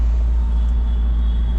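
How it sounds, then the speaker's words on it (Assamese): A delivery vehicle driven through Guwahati gives a steady low rumble from inside the cab, continuous and fairly loud with no change in pace. "গাড়ী চলাই আছোঁ"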